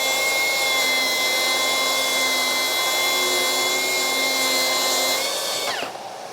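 A Milwaukee track saw cuts through a board in one loud, steady high-pitched whine with no splintering. It sounds close and continuous, then spins down and drops off sharply near the end.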